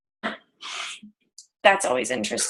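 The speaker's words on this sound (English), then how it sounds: "I was like, was that a sneeze?" A single sharp sneeze bursts out during a casual group call, set between stretches of conversation as people keep talking around it.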